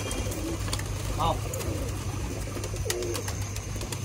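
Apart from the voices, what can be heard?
pigeons cooing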